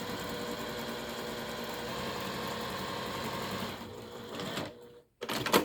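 A sewing machine stitches a small rolled bias hem on an apron, humming steadily and close for several seconds before slowing, pausing briefly, then restarting.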